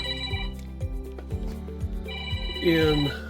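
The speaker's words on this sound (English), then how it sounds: "Had my worker come up and give me a phone call, of course." A telephone rings with an incoming call in a design workshop, its electronic tone repeating in steady pulses and swelling louder toward the end.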